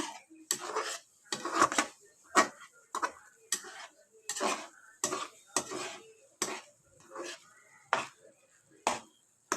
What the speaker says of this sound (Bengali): এবারে এটাকে ভালো করে পটলটার সাথে মশলাটার সাথে এটাকে ভালো করে মিশিয়ে দেবে